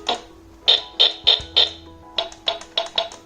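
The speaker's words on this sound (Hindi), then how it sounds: "ये ड्रम्स की आवाज़ है" Drum sounds from the sound button on a Bigfun BF 430A1 37-key budget keyboard: about nine short, crisp percussive hits in two quick runs with a brief pause between, fairly close and clear, with no talking.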